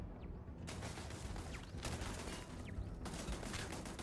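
Bursts of turret gunfire in the video game Starfield, three broadband volleys at a steady pace, fairly loud and continuous, with no talking.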